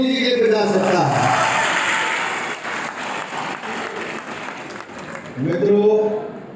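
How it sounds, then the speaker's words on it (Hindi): Applause from an audience at a political speech in Prayagraj, a burst of clapping that swells early, fades, then rises again near the end, with the speaker's voice heard over it. "जिसने मुफ्त में लगाई वो जोरदार ताली मोदी जी के लिए बजा सकता है।"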